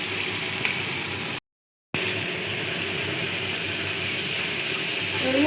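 Carrots and potatoes frying in white oil in a wok give a steady, close hiss of sizzling that continues evenly except for a brief cut-out of silence near the start.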